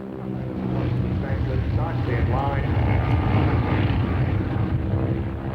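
Harvard piston-engine trainer aircraft at an airshow in Australia, a loud sustained propeller engine drone with a commentator talking over it.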